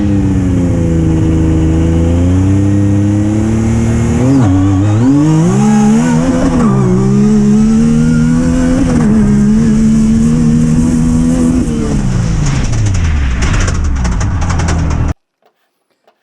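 A Yamaha YXZ1000R side-by-side with an ALBA tune spacer tip revs loudly and close during a 0-60 test. The engine holds and swings through steady high revs, dips and climbs, then winds down before cutting off abruptly.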